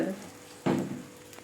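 Holige flatbread made with chana dal frying in oil on a pan: a soft steady sizzle that suddenly flares into a louder hiss partway through, then slowly settles again.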